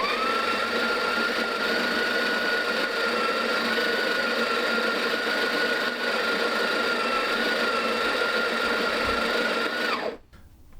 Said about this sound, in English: when you press this in it will start to grind the beans.